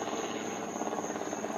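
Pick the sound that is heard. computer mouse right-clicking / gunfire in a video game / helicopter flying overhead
helicopter flying overhead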